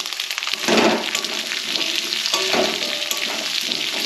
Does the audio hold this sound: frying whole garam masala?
yes